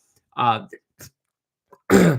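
A short, rough throat clearing with a cough-like burst, followed by a few faint clicks and another harsh throat noise close to the mic.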